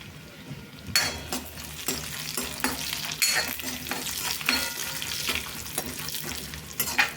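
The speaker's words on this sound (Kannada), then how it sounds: "ಈಗ ಮೊದಲು ಬಾದಾಮಿನ ಹುರ್ಕೋತೀನಿ ರೀ" Almonds frying in ghee in a pan, a steady close sizzle with repeated scraping stir strokes, loud and continuous, no voices.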